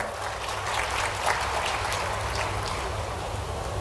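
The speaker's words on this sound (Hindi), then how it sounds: "एक बार जोरदार ताली हो जाएगी" A large crowd claps steadily and densely at an agricultural fair inauguration, a continuous rain-like patter heard from a distance over a low hum.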